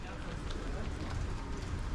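Steady rain falling on a street in Ljubljana, a dense broadband hiss of drops on pavement that holds constant and close throughout.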